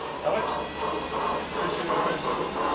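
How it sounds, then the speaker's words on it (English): A child's new toy train runs at a family home on a New Zealand farm, giving a steady whirring rumble with soft repeating clicks, close and continuous at moderate level. "Alex is going to demonstrate his new train."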